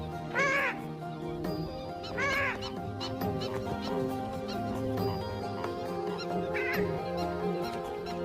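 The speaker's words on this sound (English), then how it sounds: "This is the purple swamp hen, also called the sultana bird, famed for its very loud," A purple swamp hen, or sultana bird, gives loud, explosive, nasal honking calls in three separate bursts against a busy backdrop of other wetland birdsong.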